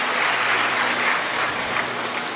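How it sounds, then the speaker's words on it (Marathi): Loud, dense applause from a crowd at a community gathering honouring a doctor, a continuous wash of clapping that holds steady throughout, with no talk over it. "एकदा जोरदार त्यांच्यासाठी टाळ्या झाल्याच पाहिजे"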